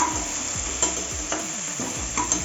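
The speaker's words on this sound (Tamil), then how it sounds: "இப்போ பச்சை மிளகாய் சேர்த்திடலாம்" Green chilies sizzle in hot oil in a pan for a vegetable biryani while a utensil stirs them in repeated scraping strokes, loud and close with no voices.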